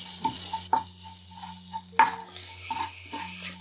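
Sweet red chili being stir-fried in a little oil in a Chinese wok: a close, regular series of utensil scrapes and taps against the metal, over a soft, low sizzle and a steady hum.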